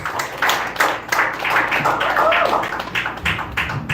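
A comedy club audience claps for a comedian taking the stage, steady close applause with sharp individual hand claps, continuous for the whole stretch.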